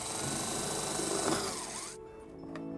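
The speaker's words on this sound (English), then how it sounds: "we're going to drill our second hole" A power drill whines loudly and steadily, boring a hole in a 2015 Toyota Sienna for a trailer wiring harness, its pitch shifting, then cuts off abruptly, leaving a quieter hum with faint clinks.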